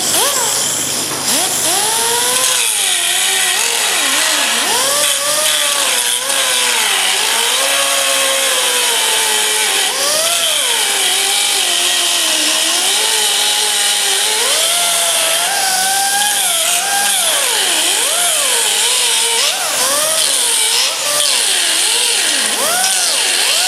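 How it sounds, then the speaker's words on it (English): A cutoff wheel grinds continuously, its high-pitched whine rising and falling as the abrasive wheel bites into metal while repairing bullet holes. "I'll take me a cutoff wheel real quick, maybe real quick, and slot that little end off there."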